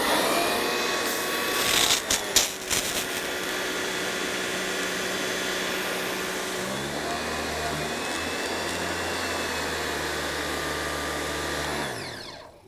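An electric 3,000 PSI pressure washer purging air from its system: a continuous loud whining motor hum that shifts to a deeper, rougher drone partway through, with a few clicks near the start before it cuts off at the end.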